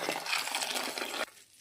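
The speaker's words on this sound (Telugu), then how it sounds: "మరమరాలను వాటర్లో వేసుకొని శుభ్రపరచుకున్న తర్వాత వీటిని వాటర్ లేకుండా వడకట్టుకోవాలి." Puffed rice being rinsed in water for upma gives a close, dense crackling fizz for just over a second, then cuts off abruptly to near quiet.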